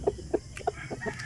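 Short clucks from a large pet chicken in a backyard, several soft, close calls spaced irregularly with no talking.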